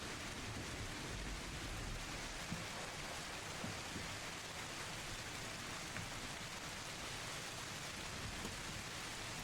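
Heavy rain sound effect, a dense steady hiss of downpour that stays even and continuous throughout with no voices.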